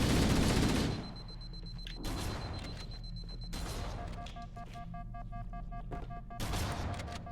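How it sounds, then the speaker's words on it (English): Shotgun blasts from Halo: Combat Evolved, heavy booming shots at the start and again near the end, with game tones and rumble between them. "A shotgun."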